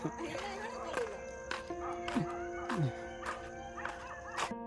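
Farm dogs bark in short bursts several times while people talk nearby, with yelps rising above the chatter.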